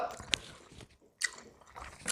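Noodles slurped and chewed up close, with short wet sucks and squishy bites in uneven bursts and soft mouth sounds between them.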